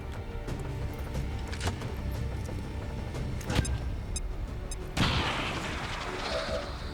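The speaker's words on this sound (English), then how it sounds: "Explosion!" A loud blast from an explosion in the video game XCOM 2 hits near the five-second mark and gives way to a crackling, hissing decay, with earlier sharp shots and clicks over a steady game background.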